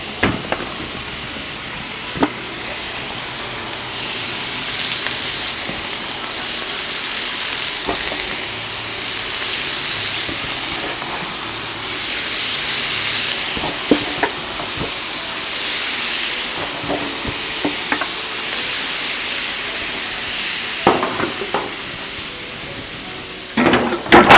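Shrimp fry in oil on a Blackstone griddle outdoors at a campsite, a steady loud hiss with occasional sharp clicks and scrapes throughout.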